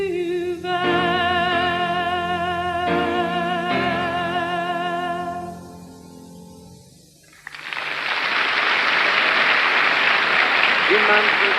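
At the 1979 Eurovision Song Contest in Jerusalem, a ballad's last sustained notes fade out before the audience breaks into loud, sustained applause for Luxembourg's performance that fills the rest of the moment.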